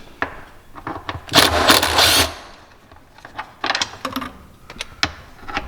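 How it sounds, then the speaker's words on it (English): A power driver with a flexible extension runs screws on a Can-Am X3, giving several bursts of whirring and ratcheting, one long buzz followed by shorter spurts and clicks close by. "we're going to use our little flexi extension. So we should be able to get to all the screws without any issues"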